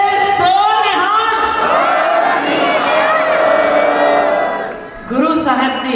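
A large crowd at a political speech in Kot Kror Kalan roars a Sikh jaikara in unison, a loud sustained chorus of shouting voices that swells, dips briefly, then rises again.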